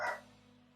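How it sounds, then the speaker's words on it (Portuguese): Dogs barking, a single short bark that rings briefly and fades, heard at a moderate distance over a low steady background hum. "Tem uns cachorros latindo aqui"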